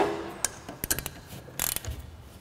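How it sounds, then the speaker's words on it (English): A 12 millimeter wrench tightens a bolt with a large washer while a 2022 C|Flux dust collector is assembled, giving a handful of sharp metallic ratcheting clicks in short irregular bursts, close and fairly quiet with no talking. "install the bolt with the large washer, and secure with a 12 millimeter wrench"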